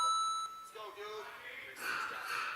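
A buzzer sounds as a preteen racer slaps it after the bear trap slider in a head-to-head ninja obstacle race; a thin electronic tone rings out briefly amid crowd noise and an announcer talking.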